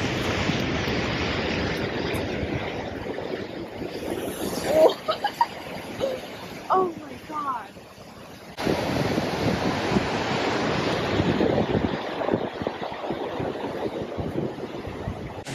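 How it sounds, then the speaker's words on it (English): A large waterfall on Iceland's Golden Circle roars in a steady broad rush, buffeted by gusting wind against the microphone, with a brief quieter lull midway and a few faint distant voices. "all of the water falling"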